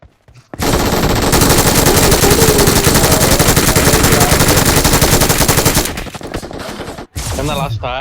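Rapid automatic gunfire in a shooting video game, a dense, loud burst of continuous shots lasting several seconds, then cutting off into short bits of game sound with a brief silent gap.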